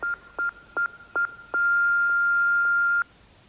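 Telephone keypad tones dial a number in an insurance advert: four short, evenly spaced beeps followed by one long sustained tone, clear and alone with no voices.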